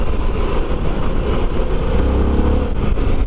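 A Harley-Davidson Pan American V-twin motorcycle accelerates on the road, its engine note rising and growling loudly and continuously up close, with wind rush over it.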